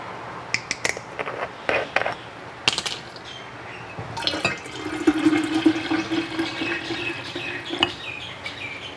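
Raw kombucha is poured into a jar for homemade brewing, with a steady liquid gush and fizzing after several light clinks and taps, close up.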